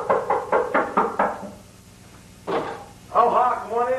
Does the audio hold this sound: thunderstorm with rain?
no